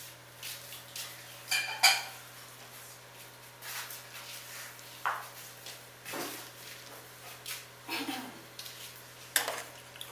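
Stockfish and dried fish being stirred in a cooking pot for a Nigerian dish, with intermittent clinks and scrapes of a utensil against the pot, close by and moderately loud, in irregular bursts.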